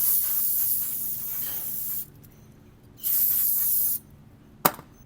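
Aerosol brake cleaner sprayed onto spilled coolant in a Jeep Cherokee XJ engine bay: two loud, steady hissing bursts of about two seconds each, separated by a pause, then a short sharp click or clank.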